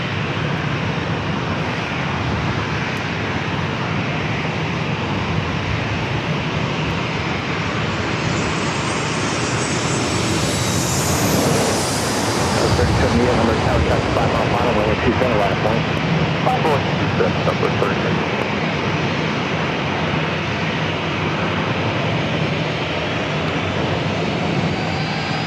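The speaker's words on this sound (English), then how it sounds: "Southwest Airlines flight 494 coming up from SFO, a 737 MAX 8" A Southwest Airlines Boeing 737 MAX 8 airliner passes at San Diego airport, its engine roar building to a loud close peak midway with a rising whine, then easing back to a steady rumble, with a voice speaking over it.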